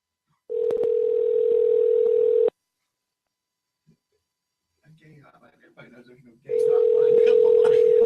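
A phone's steady dial tone hums close and loud for about two seconds, then silence, a few faint clicks and handling noises, and the same dial tone returns at the end.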